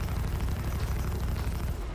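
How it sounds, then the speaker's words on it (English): Spaceship exploding in Star Citizen space combat, a dense roaring rumble with heavy low boom that fills the whole moment, loud and sustained, no talking. "Boom, nice explosion."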